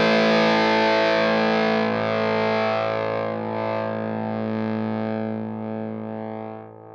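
A sustained, heavily distorted fuzz guitar tone from a Matthews Effects Whaler fuzz pedal rings out loud and alone, gradually thinning into a fizzy, crackling decay toward the end.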